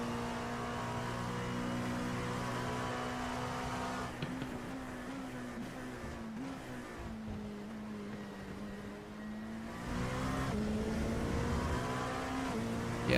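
Race car engine held steadily on throttle in a racing sim at Road America, a sustained droning tone with gentle pitch swells and dips as the driver eases on and off, continuous throughout with no talk.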